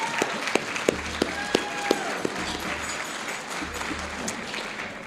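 An audience at a community event claps together in sustained applause, with several louder individual claps near the front in the first two seconds before the clapping settles into an even wash.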